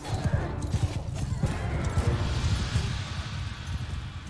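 Horses gallop in the medieval combat game Mount & Blade 2: Bannerlord, a dense, steady rumble of hoofbeats with crashing battle noise layered over it, loud and continuous throughout.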